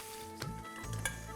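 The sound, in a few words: whole red chillies sizzling in hot ghee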